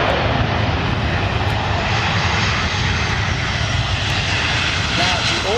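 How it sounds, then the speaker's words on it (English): Airbus A319 engines roaring at takeoff thrust during an aborted takeoff, a loud, close, continuous jet rumble with no break. "this Airbus A319 applied takeoff thrust and due to a technical malfunction had to abort the takeoff prior reaching V1"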